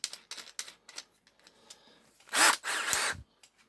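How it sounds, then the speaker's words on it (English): A cordless drill runs on a low setting against a plastic part from a Matchbox No11 scaffolding truck, giving two short close whirring bursts after a series of light clicks and taps. "I'm just going to pop it into my cordless drill on a low setting"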